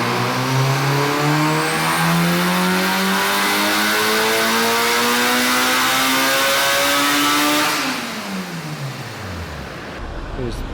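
A turbocharged B-series engine making 500 horsepower on 93 octane pulls hard in a car on a dyno, its loud note climbing steadily in pitch through a long run before cutting off and winding down.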